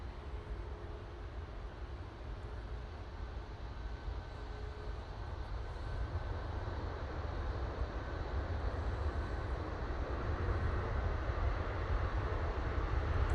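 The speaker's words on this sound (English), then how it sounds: "Oh, cracking reverser action on that." An airliner's thrust reversers roar on landing, a broad steady rumble that builds gradually over several seconds, heard from a distance with no voices.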